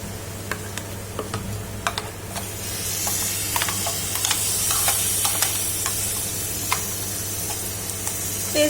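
Frying in a pan for a beetroot pachadi, a close sizzle with scattered ticks and scraping stir sounds that grow a little louder partway through; no voices.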